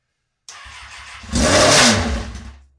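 A Kawasaki ZX6R motorcycle engine catches and runs briefly, rising in a short loud rev before sputtering and dying away as the throttle is released.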